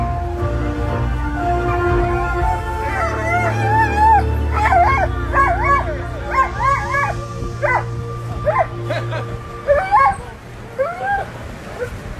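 Sled dogs at the start line of a mountain sled-dog race stage in Megève, barking and yipping excitedly in rapid overlapping bursts that rise to a loud chorus, with crowd noise and voices in the background.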